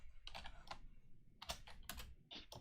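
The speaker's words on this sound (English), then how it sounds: "that mechanical keyboard there, David." Rapid clicky keystrokes on a mechanical keyboard come in irregular bursts and short pauses, close and fairly loud, with no talking.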